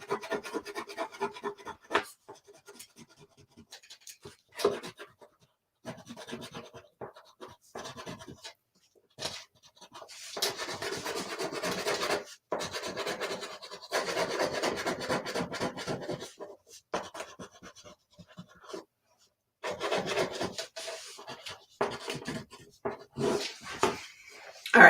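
A brown crayon rubs across paper while coloring around an owl drawing's feet, making close, intermittent scratchy strokes in bursts separated by brief pauses.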